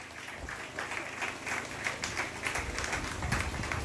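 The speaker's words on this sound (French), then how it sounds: "Sous vos applaudissements, on la raccompagne," Moderate applause from an audience at a ceremony honouring champions in Gros Morne, a steady patter of clapping at middling distance with some crowd noise beneath.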